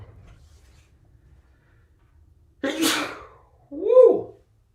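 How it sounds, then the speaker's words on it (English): One sharp, explosive sneeze bursts out close up in a quiet room, followed a second later by a short voiced exclamation, with nothing else but faint breathing before it. "Sneezing this morning"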